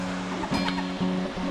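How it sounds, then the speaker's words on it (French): River water flowing through a town built above it, a steady rushing wash lasting under two seconds, with a low droning tone and faint background noise mixed in. "Donc là, il y a la rivière qui descend."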